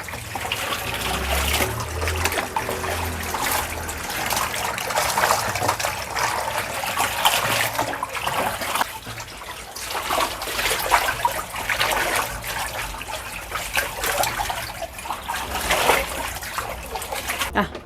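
Tap water runs steadily at close range, a constant splashing and trickling stream as something is rinsed, loud and continuous with no voices over it.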